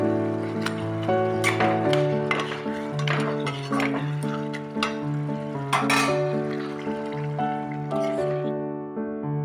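Taro curry with pieces of fried fish cooking in a pan, giving a steady sizzle with scraping stirs and clinks, heard close beneath sustained tonal background music.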